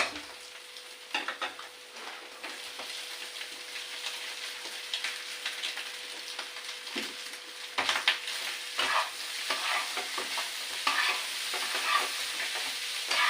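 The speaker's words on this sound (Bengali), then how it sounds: "দেখুন ভাতগুলোকে দিয়ে দিচ্ছি" Cooked rice being stir-fried in a pan: a continuous sizzle with frequent spatula scrapes and taps, growing busier and louder in the second half, close by with no speech.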